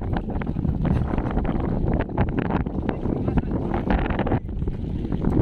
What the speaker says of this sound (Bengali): বাইরে প্রচণ্ড হাওয়া